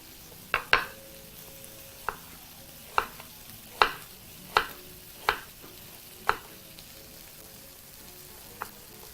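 Beef sizzles in a hot pan as sauce is added, a low steady frying hiss punctuated by regular sharp clacks of a utensil against the pan, close up with no talking.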